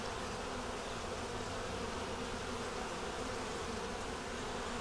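Honey bees hum steadily inside an open hive box holding brood, honey and nectar, a dense continuous buzz that stays even and close for the whole stretch with no talking.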